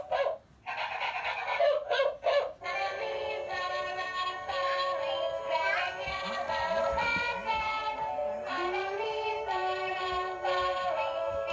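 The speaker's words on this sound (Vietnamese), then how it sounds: "Nè, qua mở nhạc con chó lên nha." A toy dog plays a jingly electronic tune with barks mixed in, loud and continuous for several seconds, with short yips at the start before the melody runs steadily.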